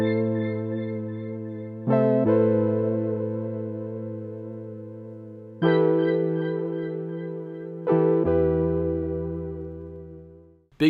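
A bell synth processed with Decimort bit-crushing and filtered to around 12 kHz plays a dark, vintage-toned run of four long chord strikes, each fading gradually, with no voice over it.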